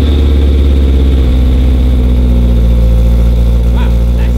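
A BMW E91 M3 with a valvetronic exhaust, valves closed, runs loud and close, a deep steady engine drone with rumbling low harmonics and no clear rev peaks.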